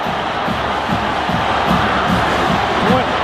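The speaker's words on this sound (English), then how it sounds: "Listen to this crowd." A loud, steady crowd roar fills a college football stadium after a touchdown, a dense wash of cheering that swells slightly near the end and holds without a break.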